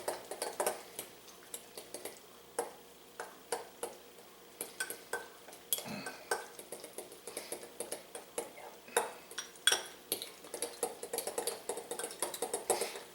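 A spoon mixes a sauce with fresh chives in a bowl, making quiet, rapid clinks and scrapes in an uneven rhythm.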